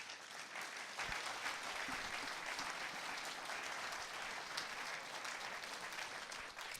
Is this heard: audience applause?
yes